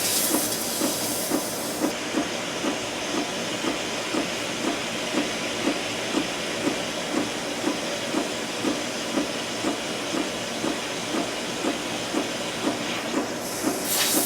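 Steam hisses steadily as it is injected to release the glued neck joint of a Martin D-28 acoustic guitar during a neck reset, with a soft rhythmic pulsing running through the close, even hiss.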